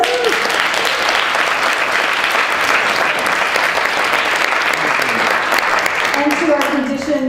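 Loud, steady applause from a theatre-conference audience fills the whole stretch, dense and continuous, with a voice briefly rising above the crowd near the end.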